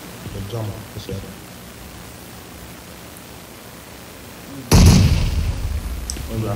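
A grenade explodes in a competitive multiplayer shooter match, a sudden loud blast late on that decays into a rumbling tail, following quieter ambience and faint voices.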